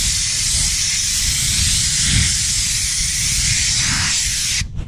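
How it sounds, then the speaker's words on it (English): An air blower pushes paint through the fins of a radiator, a loud, steady, close rushing hiss that holds constant for several seconds before cutting off abruptly at the end. "you take the blower and you put the paint on the radiator and you blow it through"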